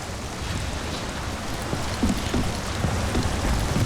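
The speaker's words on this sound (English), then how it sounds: "And it's raining." Steady rain pours in the video game Call of Juarez Gunslinger, a dense wash of hiss with faint drop patter and low rumble, continuous throughout and without voices.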